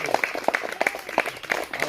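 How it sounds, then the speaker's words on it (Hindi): At a village street magic show, a crowd claps in loose, uneven bursts, with sharp individual claps standing out nearby and a few faint voices mixed in. "ताली बजा दो।"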